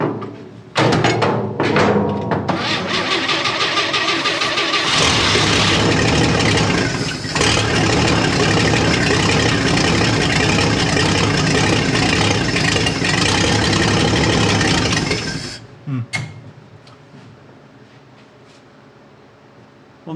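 A 1959 Chevy Apache engine cranks with a few short bursts, then catches and runs loud and rough for about fifteen seconds before cutting out, followed by faint clatter.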